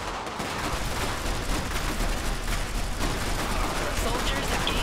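Sustained dense gunfire from the Iron Harvest battlefield, a steady loud barrage of bursts and volleys filling the whole stretch with little letup.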